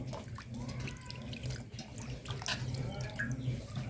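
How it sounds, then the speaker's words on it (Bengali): Cut bottle gourd being washed in water, with steady sloshing, splashing and dripping close by throughout, nobody speaking. "তো ধুইয়াও নিছি 2-3 বার, আবার আরেকটা ধোয়া দিতেছি।"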